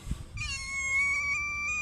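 A cat that had been ill meows once, a clear drawn-out tonal call lasting over a second, close by and alone after a short thump.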